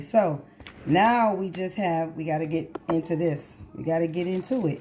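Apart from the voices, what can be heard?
None of the usual background noises is heard.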